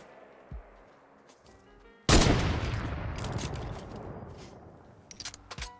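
Gunfire in the Fortnite video game: a loud burst of shots erupts after a quiet start, then decays with a scattering of sharper shots near the end, heard without talk.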